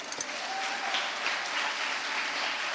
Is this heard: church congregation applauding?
yes